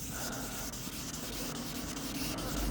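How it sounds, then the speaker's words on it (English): Wet sanding a car's paint by hand: a steady, close abrasive rubbing with short repeated strokes, continuous and moderately quiet with no talk. "wet sanding the whole car"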